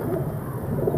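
A pet pigeon, a red-beaded variety shown among birds for sale, coos softly and repeatedly at close range in a steady low murmur with no talking.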